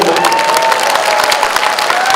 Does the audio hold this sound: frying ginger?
no